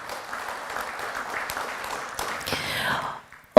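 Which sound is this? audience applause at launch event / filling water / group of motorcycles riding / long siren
audience applause at launch event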